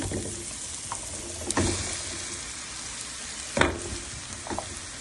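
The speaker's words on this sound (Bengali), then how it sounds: "সবগুলো মশলা দিয়ে ভালো করে কষিয়ে এরপরে জুকিনিগুলো দিয়ে দিচ্ছি" Zucchini pieces stir-fry with spices in a pan, giving a continuous low sizzle broken by two louder spatula scrapes and a few softer stirring knocks. No one speaks.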